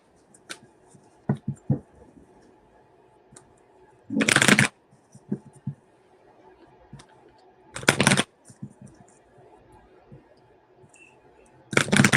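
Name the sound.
shuffling a deck of cards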